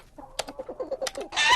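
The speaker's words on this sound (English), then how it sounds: "These are Keyboardio's chickens." Chickens at a keyboard factory give a series of short clucks, close and fairly loud, in a quick irregular rhythm. A louder burst of squawking comes at the end.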